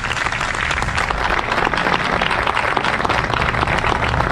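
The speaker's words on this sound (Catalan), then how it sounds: "un fort aplaudiment a totes les persones que han fet possible i faran possible aquest acte" A big crowd at a Republic proclamation anniversary event in Nou Barris gives loud, sustained applause, dense clapping filling the whole stretch without pause.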